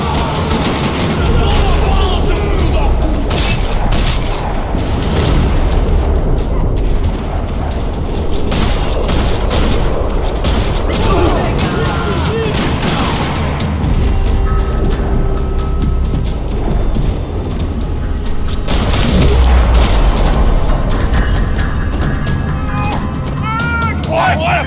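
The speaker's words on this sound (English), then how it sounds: "Another parking lot rattling with gunfire." Rattling gunfire fills a parking lot shootout in Max Payne 3, with bursts of shots and booms repeating across a dense, loud action mix.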